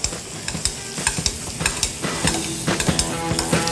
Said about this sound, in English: Add a few knobs of butter here. And just start to baste off that back knuckle.